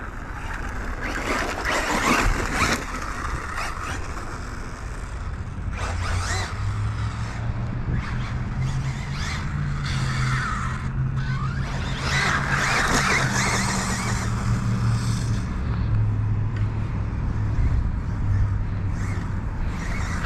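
A Hobao Hyper 9E electric RC car drives about, giving a continuous close whine of motor and drivetrain that rises and falls in pitch with throttle, with gritty tire scrabble and skids over the top.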